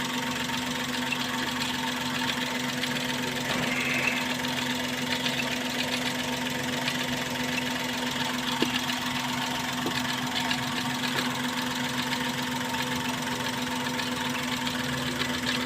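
A car engine idling steadily after ignition during a check with a sensor tester, a constant mid-pitched hum with a faint rhythmic knock, close and even throughout with no talking.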